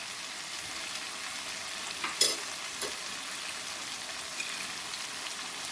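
Aloo gobhi of potatoes and cauliflower, just dusted with garam masala, is stirred in a pan over a low flame. A soft, even sizzle runs throughout, broken by a couple of faint spoon scrapes.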